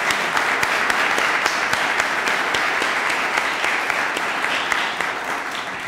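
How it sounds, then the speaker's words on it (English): A large audience at an Optimist Club youth program gives a loud, sustained round of applause, many hands clapping in a dense, even roar that holds steady and eases slightly near the end. "A big round of applause for Mark Spain."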